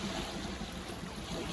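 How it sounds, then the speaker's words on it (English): The River Dart running fast and high in flood, a steady broadband rush of water close by that holds at an even level throughout with no voices. "behind me is the River Dart, which is running really fast and quite high at the moment"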